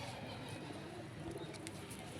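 A Teddy pigeon coos softly in low, murmuring tones against a steady hiss of background noise.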